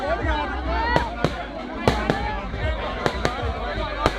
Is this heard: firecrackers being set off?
yes